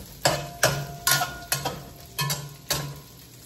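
Pork for pancit canton guisado is stirred in a hot wok, with about seven sharp, regular spatula scrapes over a soft, continuous sizzle, close and clear.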